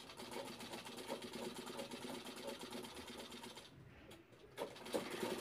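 Sewing machine stitching a folded strip on a designer lehenga, a steady fast rapid chatter running throughout, fairly quiet and close, with a short slowdown near the end before it picks up again.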